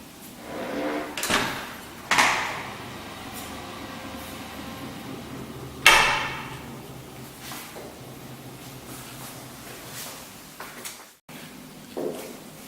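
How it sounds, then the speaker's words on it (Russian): An interior apartment door fitted with a magnetic lock closes softly, giving a few gentle muted thuds and sliding knocks spread across a quiet room, with low background hum. "На каждой двери стоит магнитный замок, поэтому дверь закрывается мягко и без шума."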